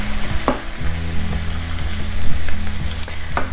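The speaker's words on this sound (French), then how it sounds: "Et on met à feu doux, hop, pour faire déglacer les légumes." Vegetables sizzle and fry steadily in a pan on low heat after a splash of white wine goes in for deglazing, with a few clinks from stirring breaking through the hiss.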